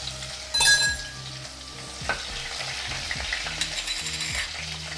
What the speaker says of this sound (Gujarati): આ લસણની પેસ્ટ એડ કરશું એક બે મિનિટ આને તેલમાં સાતડી લેવાની છે